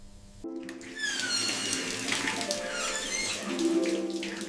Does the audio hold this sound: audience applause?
no